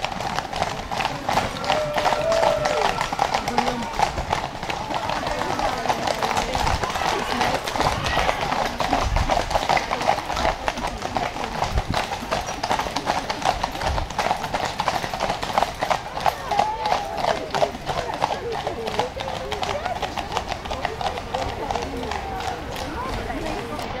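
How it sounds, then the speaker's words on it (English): Many horses' hooves clip-clop steadily on pavement in a dense, continuous rhythm during a procession with cars near Ascot Racecourse, with crowd murmur and voices in the background. "we can hear the horses"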